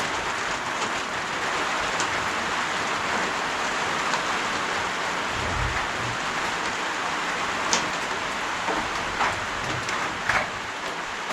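Steady rain pours onto a workshop shed roof during a Tasmanian winter, a dense continuous hiss with occasional louder drips and taps, no voices.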